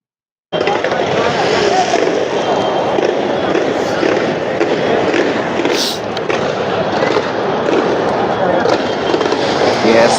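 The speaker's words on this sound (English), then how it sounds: "fireworks lightening the stadium, Eden Gardens" Fireworks at Eden Gardens cricket stadium in Kolkata during an IPL match, KKR against RCB, a continuous dense crackling roar mixed with crowd noise over about ten seconds, with no clear separate bangs.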